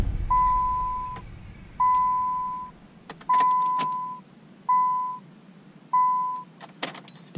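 A Nissan Sentra sits through a cold start attempt: a steady electronic chime beeps five times in an even rhythm, with faint clicks and a brief rattle near the end, close and fairly quiet.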